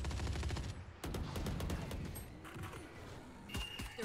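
Gunfire in the video game Valorant: rapid bursts of automatic shots crackle loudly at the start, then a single sharp shot follows, fading into quieter game ambience.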